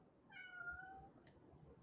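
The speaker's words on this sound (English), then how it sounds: "Is that the cat? Yeah," A pet cat named Oreo gives a single drawn-out meow, a faint, rising then falling cry close to a microphone, followed by a brief soft chirp, with quiet room noise underneath.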